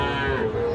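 A cow at a crowded cattle market selling young bulls and heifers lets out one brief, loud, low moo up close.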